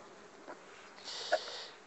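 Honeybees hum faintly in a spring hive with a crowded feeder, as the colony is checked and expanded. The buzz is soft and close, swelling briefly near the end with no talking.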